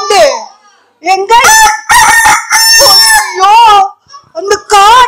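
Repeated loud, close rooster crows from a forest setting, several drawn-out harmonic calls broken by short gaps, with some clucking between them.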